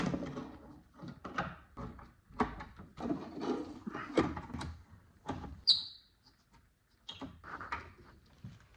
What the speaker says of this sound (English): I'm putting the drawers back in again and attach the writing slope.